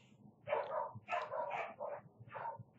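Somewhere in the background a dog barks repeatedly in uneven bursts, excited and moderately close, with no speech over it.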